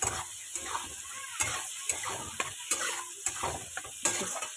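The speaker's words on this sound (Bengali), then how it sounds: "পেঁয়াজটাকে একটু হালকা ভেজে নেবো এবার" Onion and tomato frying in a pan give a continuous soft sizzle, punctuated by regular scraping strokes of a stirring spoon, close-up and fairly quiet with no voices.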